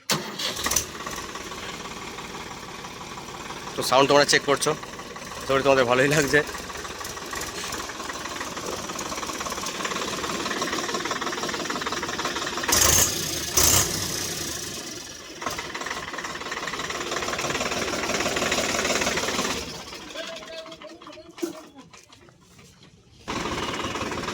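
Swaraj 855 FE 4WD tractor engine cranks in two short starter bursts, then catches and settles into a steady, loud diesel idle that runs for a long stretch before briefly dropping away near the end.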